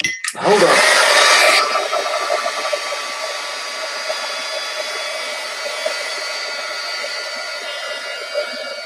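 A hair dryer blasts loudly onto a wet gelli plate print after a brief start-up click, then keeps running as a steady, close airflow whoosh for the rest of the clip, with no talking over it.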